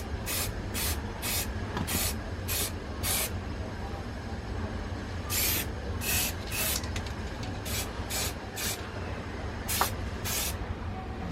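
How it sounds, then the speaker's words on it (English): Short bursts of aerosol primer spray hiss onto a plastic model kit, several quick puffs in a row, then a pause and another run of bursts, over a steady low background rumble. "we'll start to spray the primer"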